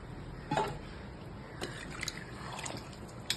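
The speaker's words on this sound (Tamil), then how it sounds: "5 டம்ளர் தண்ணி ஊற்றுறேன்." Faint, uneven splashing and trickling of water poured by the tumbler into rice for biryani in short bursts, quiet and close, with no voices.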